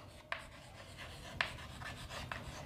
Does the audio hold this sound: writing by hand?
yes